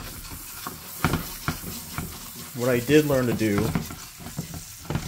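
Steak sizzles steadily in a hot pan, crackling up close, while a person speaks briefly over the frying.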